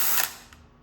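A tool gun spins on spark plugs during work on a junkyard 4.8L engine, a brief faint mechanical whir and ratcheting burst that fades out within a second.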